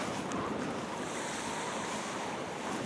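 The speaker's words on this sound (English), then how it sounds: "The wind out here is frigid, brutal." Frigid winter wind sweeps across a snowy beach, a steady, loud broadband rush with surf mixed in, continuous and close to the microphone throughout, with no talking.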